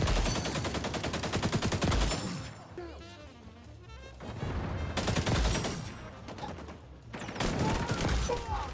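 AK rifle fire from the XDefiant shooter game, with loud rapid automatic bursts in three dense stretches separated by quieter gaps full of scattered game effects.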